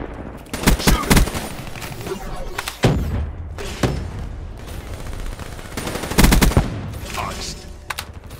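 Heavy automatic gunfire and booming blasts from the Call of Duty: Black Ops III video game play in loud, dense bursts with thuds, and a voice speaks briefly over the action.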